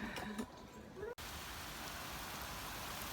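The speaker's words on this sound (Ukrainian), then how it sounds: "У нас тут різко такий сильний-сильний дощ пішов." Heavy rain starts suddenly in the Netherlands, after a woman has just returned to her car; a brief voice comes first, then a steady, loud broadband wash of downpour takes over and continues unbroken.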